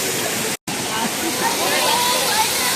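An artificial waterfall in a zoo animal enclosure makes a loud, continuous roar of falling water, broken by one brief cut near the start, with a voice talking over it.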